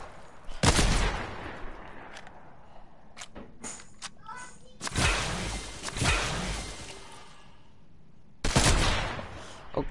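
Gunfire in an Xbox video game: a few sharp, loud shot cracks spaced several seconds apart, followed by rattling echoes and faint clicks in between, with no speech over them.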